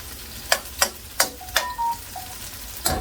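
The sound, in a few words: cassava frying in caramel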